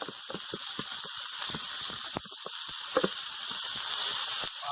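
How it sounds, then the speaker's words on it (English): Fajita meat sizzles loudly in a hot pan, a dense continuous hiss with frequent crackling pops throughout, close and alone with no talking. "You hear that sizzle? That is the sizzle of deliciousness."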